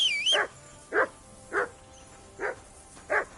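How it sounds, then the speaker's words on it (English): A dog in the medieval video game Kingdom Come: Deliverance II barks five times in slow, evenly spaced woofs, near and moderately loud over a quiet ambient background, with a brief whistling tone at the very start. "Call off that mutt of yours!"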